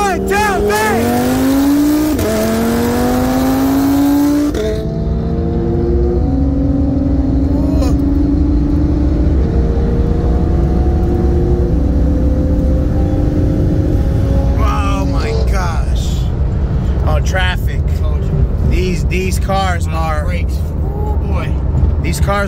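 A 2018 Audi RS3 running E85 and a 2018 Porsche 911 Turbo S accelerate hard in a 40 mph roll race, loud engine roars climbing through gear changes with rising pitch, wind rush and a rumbling finish as they ease off.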